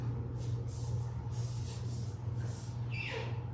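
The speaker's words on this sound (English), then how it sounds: "Spray your body, this leave-in conditioner" Leave-in conditioner is sprayed onto a doodle's coat during grooming: a series of close, short hissing spray bursts in a steady rhythm, about six pumps, over a low background hum.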